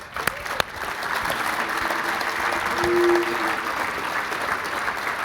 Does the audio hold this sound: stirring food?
no